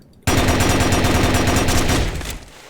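A loud, sustained burst of rapid automatic gunfire, shot through a wall during a competitive shooter video game tournament match, runs for about two seconds before fading, with no talking.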